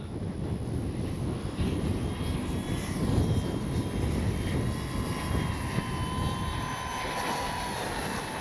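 An FMS PC-21 Pilatus RC plane flies in gusty wind, its electric motor whine drifting overhead while heavy wind buffeting rumbles steadily across the mic throughout, with no talking.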